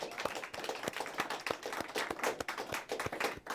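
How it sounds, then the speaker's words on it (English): A studio audience claps for the guests of a live talk show, a moderately loud patter of hands with distinct individual claps across the whole stretch and no talking over it. "Give everyone a round of applause who's"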